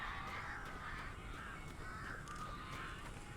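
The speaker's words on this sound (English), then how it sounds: "These birds are weird." Crows caw repeatedly in a dark video game setting, harsh calls recurring over a steady dense ambient bed without talk.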